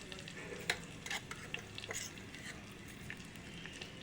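Mustard seeds, chili seeds and cumin in hot oil for pachi pulusu give a soft, steady frying hiss. Scattered light crackles and stirring clicks sit over it, faint and close.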